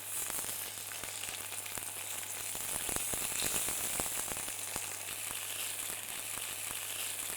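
Tofu steaks sear in a hot pan with a steady, bright sizzle and crackle that stays even throughout, close and alone with no talking.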